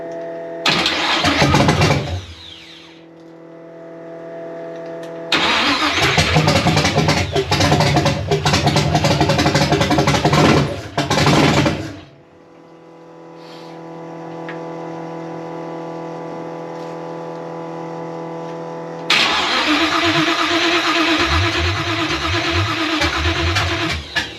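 A 1966 Chevy Nova engine, unrun for 33 years, cranks and catches twice, roaring loudly and running rough with late ignition timing, dropping to a lumpy idle before revving up again nearby.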